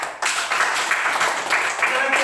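A classroom group applauds for a couple of seconds, a dense, steady wash of hand claps at moderate volume, fairly close, with no pause between claps.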